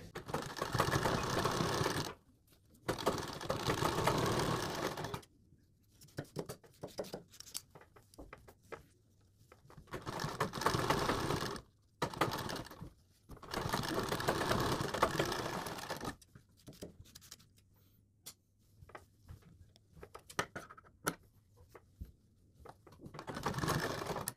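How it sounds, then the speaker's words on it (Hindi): A sewing machine runs loose basting stitches through folded fabric while a boat-neck blouse with pintucks is being made, in several loud bursts of rapid stitching separated by quiet pauses and handling noises. "यहाँ पर भी एक कच्ची सिलाई ही लगानी है"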